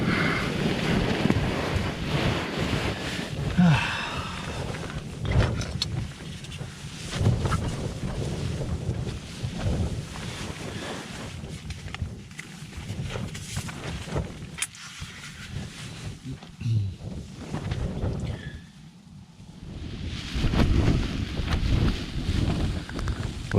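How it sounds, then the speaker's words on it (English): Heavy rain patters on the fly of a Lanshan 2 Pro tent at a stormy wild camp while strong gusts roar and buffet, rising and easing in waves with wind rumble across the microphone. "listen to the sound of the rain on the fly and the wind picking up"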